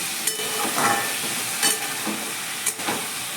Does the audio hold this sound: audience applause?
no